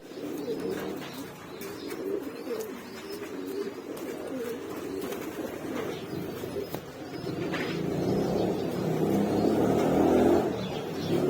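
A checkered racing pigeon coos softly and repeatedly amid steady outdoor background noise, with a passing vehicle growing louder toward the end.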